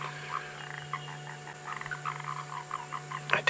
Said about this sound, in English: That's that little grey tree frog or foam nest frog making noise.